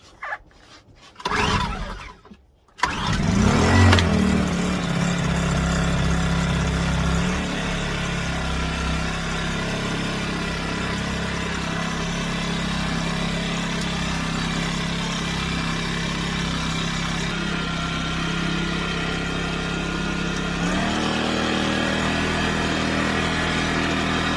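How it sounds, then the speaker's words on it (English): An Alp 850W propane-powered generator is pulled over on choke, sputters briefly, then catches and settles into a steady, fairly loud mechanical drone that holds for the rest of the time, with no talking over it. "Now let's take a look and see how this thing starts."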